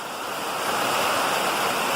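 Storm rainwater flows steadily down in a continuous, even rush of broadband noise that swells slightly and stays fairly loud throughout, with no voices.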